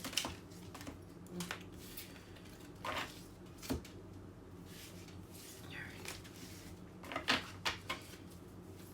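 A deck of tarot cards is shuffled by small hands, producing scattered soft taps, riffles and clicks at close range in an uneven rhythm, with quiet murmuring underneath.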